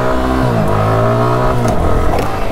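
A motorbike engine revs loudly and close, pitch climbing and dipping in rising sweeps as the rider pulls wheelies, with no voices over it.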